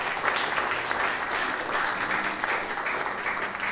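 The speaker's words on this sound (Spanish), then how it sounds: "Vamos a darle un aplauso también." Congregational applause at a church celebration of the Virgin of Charity of El Cobre honoring a municipal public relations director, a thick, continuous clatter of many hands filling the room at close range.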